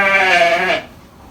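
A single sheep in a barn gives one loud, close bleat lasting under a second, wavering and tonal, then fades into quiet.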